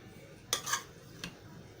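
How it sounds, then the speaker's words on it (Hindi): A spoon scrapes and clinks against a pot while cooked rice is stirred, two brief bright knocks close together then a softer single clink, quiet and close. "इन्हें अच्छी तरह मिक्स कर लेंगे"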